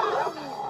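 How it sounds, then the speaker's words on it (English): A small dog yips and whimpers in a short, loud burst, with the sound blending into a dense mix for under a second. "That demon dog."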